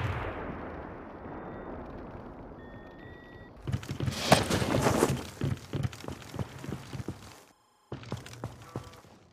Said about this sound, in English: Get cover, grenade!